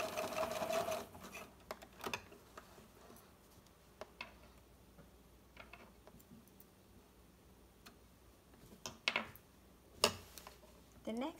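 Sewing machine back stitching to finish the seam on a small fabric triangle (samosa) coin pouch, with quiet clicking needle bursts separated by pauses.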